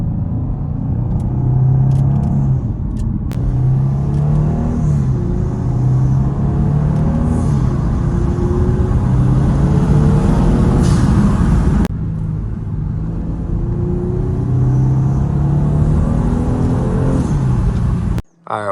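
A Kia Stinger GT engine and exhaust rumble deeply and steadily up close, with the pitch rising and falling as the throttle varies, loud and continuous throughout, ending with a sudden clunk.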